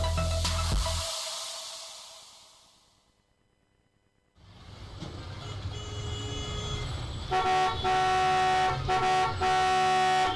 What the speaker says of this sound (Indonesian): Jangan bunyikan klakson berulang kali.